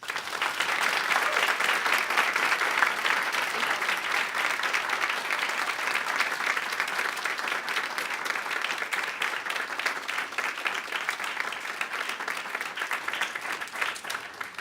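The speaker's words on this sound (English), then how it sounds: "Let's give Lucy a round of applause." A keynote audience at the 2018 MSU Comics Forum applauds steadily for a comics author, a dense, even clapping that holds at full strength for the whole stretch with no talking over it.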